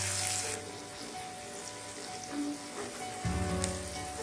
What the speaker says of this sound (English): Roast the green chilies for 30 seconds.